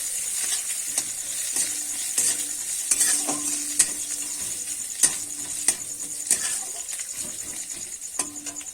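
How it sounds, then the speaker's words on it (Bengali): Crushed green chili and ginger fry lightly in a pan, a soft continuous sizzle broken by regular sharp clicks and taps of a spoon stirring against the pan, close and without talk. "কাঁচা লঙ্কার আদাটা কিন্তু আমি একটু থেঁতো করে নিয়েছি"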